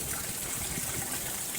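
Water from the hillside pours steadily into the stone tank at Ramatirtha temple near Belagavi, a continuous broadband gush heard alone with no voices.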